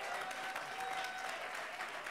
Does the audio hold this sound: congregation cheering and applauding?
yes